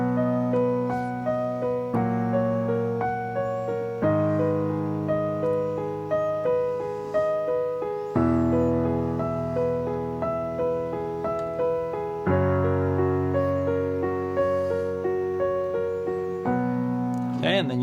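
Piano chord accompaniment for a song, played as steady repeated chords in a simple, moderately paced rhythm, clear and close without any talk.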